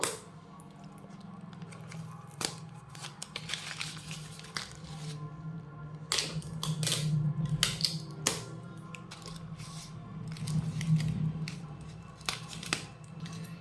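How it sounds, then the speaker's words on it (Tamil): Scissors trim excess paper while making a paper bouquet: a series of crisp, separate snips, close and fairly quiet, scattered irregularly over a soft background. "இது மாதிரி எக்ஸஸாக இருக்கிறத கட் பண்ணி எடுத்துக்கலாம்"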